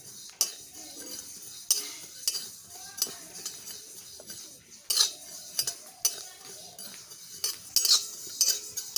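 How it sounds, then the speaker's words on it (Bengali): A spoon stirs and scrapes spices, including black cumin, radhuni and fenugreek, in a metal pan as they fry for a jujube pickle, with sharp clinks and a faint sizzle at irregular intervals. "এখন সব কিছু ভালোভাবে ভেজে নেব।"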